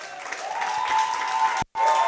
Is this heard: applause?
yes